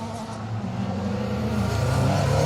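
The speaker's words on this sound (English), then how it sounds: "Citroen C2 R2 Max with the Loeb registration number." A Citroen C2 R2 Max rally car drives a stage at a circuit rally, its engine a steady loud drone that builds slightly throughout, heard alone without voices.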